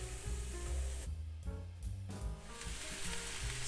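Cabbage tipped into a pan of softened onion and carrot, sizzling and frying steadily over heat, a continuous close hiss that holds throughout with brief dips.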